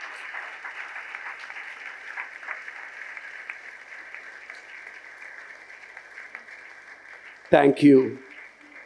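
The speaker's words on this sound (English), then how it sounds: "kindly rise and give a loud round of applause and standing ovation" Audience applause during a standing ovation at a college felicitation event, a steady band of clapping from a crowd through a hall, ending as a voice briefly speaks near the mic with a loud handling thump.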